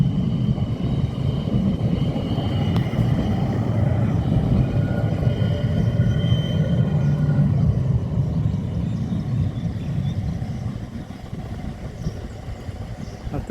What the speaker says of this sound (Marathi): आता ही मेट्रो पुढे पोर्ट लुईसला जाणार.